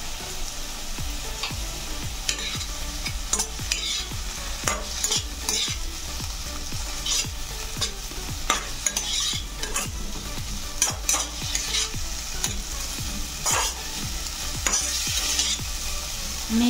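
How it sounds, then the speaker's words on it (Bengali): Garlic and ginger paste frying in a pan with tomatoes for a restaurant-style yellow moong dal, stirred steadily with a utensil; a constant close sizzle with repeated scraping strokes, no voices. "এবারে 1 চামচ রসুন বাটা, 1 চামচ আদা বাটা দিলাম।"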